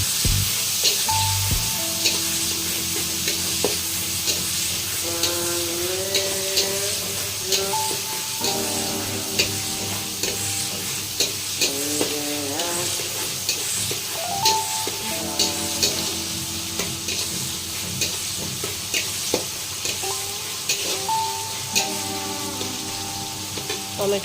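Tomatoes fry in a pan with a steady sizzle, while a spoon scrapes and stirs them in repeated clinks and scrapes against a background of music throughout.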